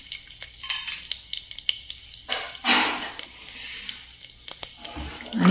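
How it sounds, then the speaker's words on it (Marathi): Whole garam masala spices crackle and sizzle in hot oil inside a pressure cooker, with irregular pops and a louder burst of frying midway, close up and without talk. "आता इथे कुकरमध्ये मी तेल गरम करत ठेवलं आहे, त्यात हे खडे गरम मसाले घालायचे।"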